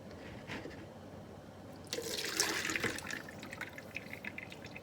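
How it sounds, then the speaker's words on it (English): Beef broth ladled through a colander into a large bowl splashes and pours up close, with a soft clink early on, then a gush of liquid that trails off into dripping. "we are going to ladle our broth through this"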